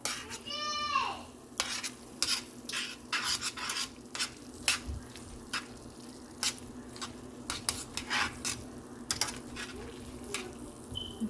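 Water and heavy whipping cream in a hot pan, a faint steady sizzle beneath repeated clicking scrapes of a utensil stirring against the pan, with a brief rising squeal near the start.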